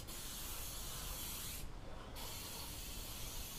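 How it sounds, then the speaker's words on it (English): Spray adhesive mists onto boat center console seat foam in a steady, close hiss that breaks off briefly partway through and then resumes. "Put a little bit of a mist on this thing."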